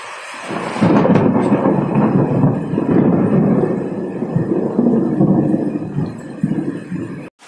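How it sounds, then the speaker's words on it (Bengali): Loud thunder rolls and rumbles continuously through a storm, close and heavy, with rain noise beneath and no speech. "এত জোরে জোরে বাজ পড়ছে"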